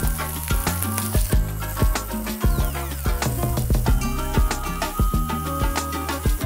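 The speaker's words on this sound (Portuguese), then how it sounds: "Mais um pouquinho de manteiga para ajudar essa cebola a dourar" Onions browning in butter in a pan, a loud, steady sizzle and crackle of frying with scattered sharp pops, heard up close and continuously alongside background music.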